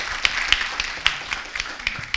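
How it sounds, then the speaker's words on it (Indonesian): Campus event audience clapping hands at a student orientation, a dense patter of applause with a few sharper individual claps standing out, moderate level and brief. "Tepuk tangan"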